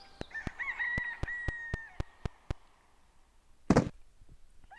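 Rooster crowing in the Gobliiins puzzle game, a clear cock-a-doodle-doo over a run of evenly spaced sharp clicks, followed by a single brief louder burst near the end, with no talking.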